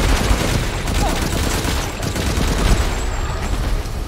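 Continuous loud rapid gunfire from a Resident Evil Village boss fight, dense bursts running throughout with no pause.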